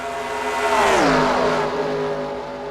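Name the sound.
race cars accelerating in a NASCAR racing video game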